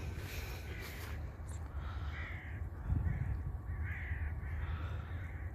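Several crows caw repeatedly in the distance during snowfall in Zonguldak, Turkey, harsh calls spaced across the clip over a constant low rumble of wind or traffic.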